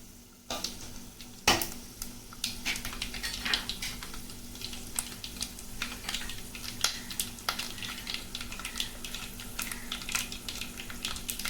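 Curry leaves, peanuts and chana dal frying in a pan for vangi bath, a close crackling sizzle with frequent sharp pops and spatters over a low steady hiss, one loud pop early on.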